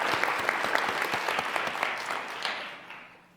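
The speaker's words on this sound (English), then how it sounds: "Give yourselves a round of applause." Audience at a business pitch competition gives a round of applause, crisp individual claps standing out from the crowd before it gradually fades away.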